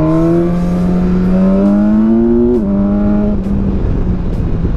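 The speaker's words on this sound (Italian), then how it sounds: "È veramente fenomenale questo motore agli alti" A 2017 BMW S1000XR motorcycle engine screams upward through the gears at high rpm, pitch climbing steadily with quick drops at each shift, loud and close.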